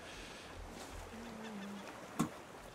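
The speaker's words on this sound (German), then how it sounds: "Ich höre doch schon wieder einen Vogel." In the survival game Raft, a bird gives a brief honking cry near the end, over a quiet background of low hum and faint tones.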